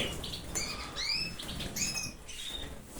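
A pair of agate canaries flutters their wings in a cage, with soft flapping patter and bright, quick chirps breaking in at intervals. The sound is close and fairly quiet.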